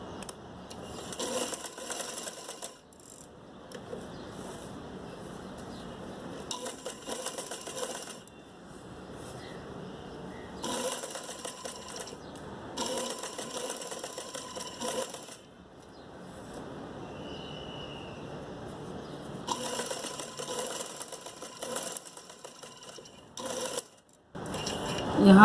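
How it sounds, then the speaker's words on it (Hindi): A sewing machine stitches lace onto a square neckline, running in repeated bursts of rapid mechanical chatter separated by short pauses, heard close up. "अब हम दूसरी सिलाई करेंगे"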